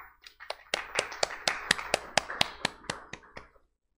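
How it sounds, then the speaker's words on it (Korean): Audience applause at a blockchain conference session in Korea, a dozen or so sharp, distinct claps from a small crowd, fairly close and spaced, building briefly then stopping abruptly. "박수로 모시겠습니다"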